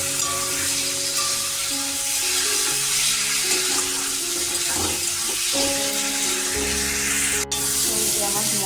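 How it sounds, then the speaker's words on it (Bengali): Boiled soybeans sizzle and crackle as they are stir-fried in spiced oil for a soybean, egg and potato biryani, a loud continuous hiss with stirring clatter and a tonal hum underneath. "এখন আমি দিয়ে দেবো এই যে সেদ্ধ করা সোয়াবিনগুলো সোয়াবিনগুলোকে দিয়ে ভালো করে কষিয়ে নেবো"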